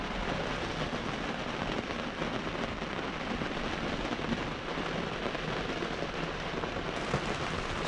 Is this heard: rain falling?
yes